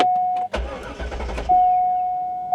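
A cheap manual Chevrolet Corvette with hidden modifications, bought at auction, starting for the first time: a loud, rough burst of cranking and catching lasts about a second, with a steady in-car chime tone before and after.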